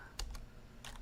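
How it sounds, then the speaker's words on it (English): Typing on a computer keyboard while searching for files: a few light, close key taps in quick bursts, quiet and alone. "see, when I started typing"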